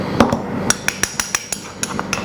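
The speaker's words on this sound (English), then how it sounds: "now that we've added the turmeric, give that a final grind" Turmeric being ground into a spice mix with a mortar and pestle in a kitchen, heard as a steady series of sharp knocking strikes, roughly four per second, close and fairly loud, with no talking.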